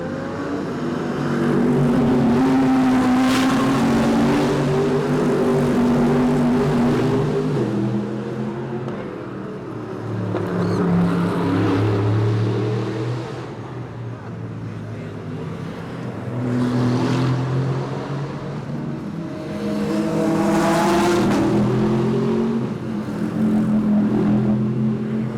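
Race cars roar past during qualifying at the 2023 St. Pete Grand Prix, with loud engine passes swelling and fading several times in a row over a constant rumble of background noise.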